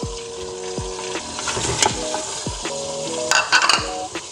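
Meat sizzling and frying in a pan with ginger-garlic paste and tomato for an aloo chicken curry, a steady loud sizzle broken by repeated scraping stirs and clinks of a spoon against the pot.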